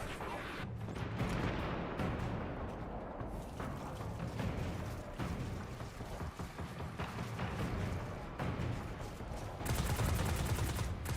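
Heavy gunfire rattles through a match in Destiny 2, with dense bursts, single cracks and explosions in continuous overlapping volleys over eleven seconds. A loud rapid-fire stretch closes it out, with no clear talk over the shooting.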